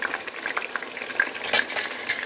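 Eggplants fry in oil in a covered pan, giving a steady close crackle and sizzle with scattered sharp pops and no voices.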